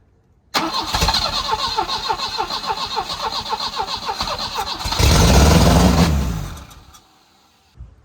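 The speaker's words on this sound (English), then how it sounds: "Where if I keep the starter running, it'll run." An abandoned Volvo 240 with a suspected wiring fault cranks on the starter in a rapid, even chugging rhythm, surges into a louder roar as it runs on the starter, then dies and falls silent.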